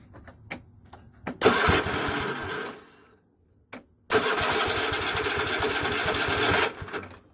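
Kohler engine on a Craftsman lawnmower cranks with a few clicks, catches briefly and dies, then restarts and runs with a loud rough chattering clatter for several seconds before cutting off.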